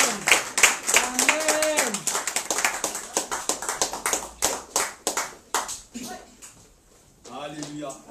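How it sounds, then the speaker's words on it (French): A church congregation claps in rapid, steady applause with many hands close by, while voices call out in worship over it before the clapping thins and fades near the end. "Nous acclamons le Seigneur pour son serviteur"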